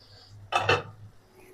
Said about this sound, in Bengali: ঢাকনাটা উঠাই নিব।